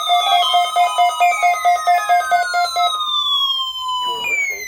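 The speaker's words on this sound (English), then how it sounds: "The preceding tone signals were a test of the alarm device of this weather radio station." Alarm test tones from a NOAA Weather Radio station in Pittsburgh: a loud pulsing two-tone signal repeats steadily for about three seconds, then a long continuous tone holds and glides, ending with a brief burst of noise.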